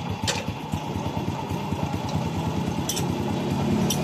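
Honda Wave 100 motorcycle engine running at a steady idle, a close, even low putter with faint ticking on top, holding constant throughout with no voices.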